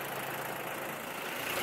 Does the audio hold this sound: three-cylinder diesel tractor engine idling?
yes